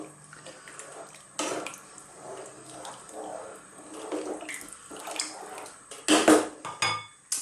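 Water pours into a pot of lentils, a splashing, trickling stream with clinks of cookware, rising to louder gushes toward the end, close by and without talk.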